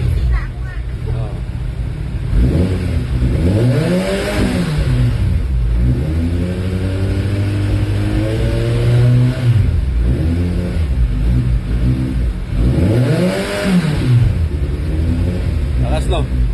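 A 1000cc big bike motorcycle engine revs loudly and close, rising and falling in two strong surges over a steady idle rumble.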